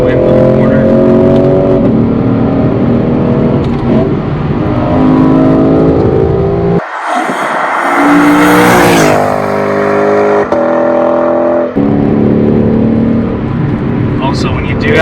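A 2017 Lexus RCF driven hard through corners, its engine loud and close with sustained revving, a sharp rise in pitch around the middle and a brief drop, then strong acceleration again.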